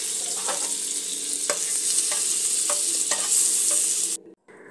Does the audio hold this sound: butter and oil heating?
yes